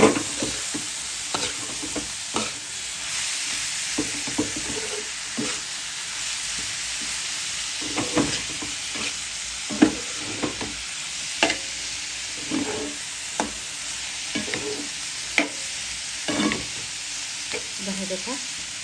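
Chopped greens and onions fry with a steady sizzle in a pan, while a spatula stirs and scrapes in repeated sharp knocks throughout.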